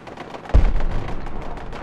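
A video game firefight in a post-apocalyptic setting with machine gun turrets: one heavy, close boom lands, then rapid scattered shots and rumbling blasts continue in the background.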